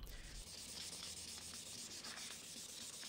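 A yellowed, scratched vehicle headlight lens being wet-sanded by hand with 2000 grit sandpaper, a steady close hissing rub that runs continuously for a few seconds with no voices.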